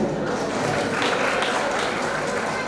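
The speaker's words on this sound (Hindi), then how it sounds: "भैया ताली बजा दीजिए।" Audience applause at an evening Jain religious gathering with a sermon and lamp worship, a dense, steady burst of many hands clapping close by that fills the whole stretch.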